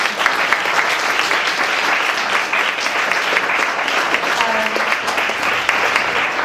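Loud, dense audience applause at an art fellowship workshop, continuous clapping from a full room that fills the whole moment without any voices.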